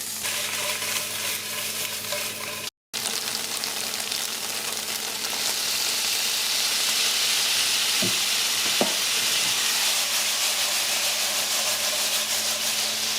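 Tofu sizzling and frying steadily in a pan for a vegan meal, a continuous close hiss with occasional brief clinks, with no talking.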